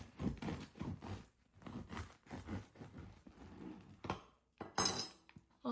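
A knife saws through a crusty homemade sourdough loaf in a series of crackly, crunching strokes, close and fairly quiet, with short pauses between cuts.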